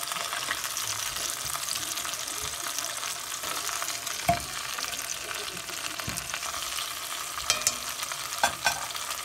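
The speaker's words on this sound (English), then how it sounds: "so while that side's searing" Beef short ribs searing in a hot pan on a stovetop, a constant loud sizzle with a few sharp taps and scrapes scattered through, no one speaking.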